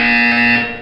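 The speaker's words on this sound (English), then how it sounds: "You will hear a buzzer. When you hear the buzzer, look down at the floor." A loud, steady electronic buzzer from the video game Portal 2 sounds as a single tone. It lasts just under a second and tapers off at the end, with no talk over it.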